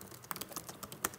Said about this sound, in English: you can type anything here